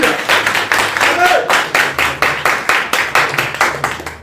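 Church congregation clapping together in a steady rhythmic beat, loud and close, with a low hum beneath the claps.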